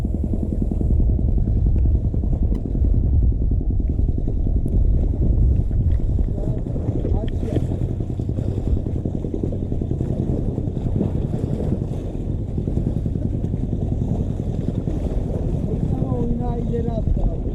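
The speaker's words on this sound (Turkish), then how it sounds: "Ama Tam yanaşıyorken tekne geçti." A passing boat's motor drones loudly and steadily throughout, close by, with wind rumbling across the microphone, while fishing for barracuda.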